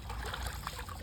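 Water is poured over a child's head in summer heat, making a faint, steady trickle and splash that stays soft and continuous.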